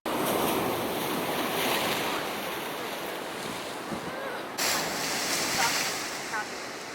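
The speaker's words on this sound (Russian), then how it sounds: "Волны вообще очень большие." Large Atlantic Ocean waves crash against a breakwater, a continuous roaring wash of surf with gusting wind buffeting the microphone and a brief louder surge partway through.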